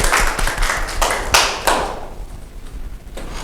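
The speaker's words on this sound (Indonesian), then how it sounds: "Kita bisa beri tepuk tangan untuk kelompok 1" A class applauding a student group in a classroom, with a burst of loud, close clapping that peaks and then fades into room ambience within a couple of seconds, with no talking.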